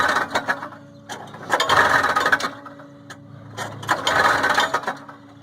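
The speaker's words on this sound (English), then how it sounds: "I'm gonna give it a little gas while I pull it." A moped's pull-start cord is yanked in repeated rhythmic bursts, each a close ratcheting, whirring mechanical rasp with short pauses between pulls and the engine never catching.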